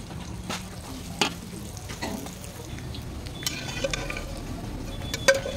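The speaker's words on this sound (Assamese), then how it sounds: "এয়া এতিয়া বেঙেনা ভাজি ধুনীয়াকৈ হৈ গ'ল।" Eggplant frying in hot oil in a pan, a steady crackling sizzle with occasional sharp clinks and stirring scrapes, close and moderately loud, no talking.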